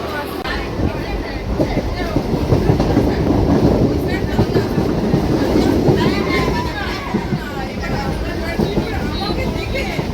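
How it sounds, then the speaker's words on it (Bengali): A crowded passenger train rolling along a suburban line, a steady rumble with rhythmic clatter of wheels on rails, loud and close from inside the carriage, with people talking in the background. "গোপালনগরে ঢুকছে ট্রেন"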